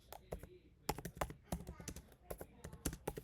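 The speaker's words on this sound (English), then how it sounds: "So I'll just type, hey CBRockzz," Soft, quick keystrokes tap out an irregular rhythm on a computer keyboard, faint and close, in short bursts with brief pauses.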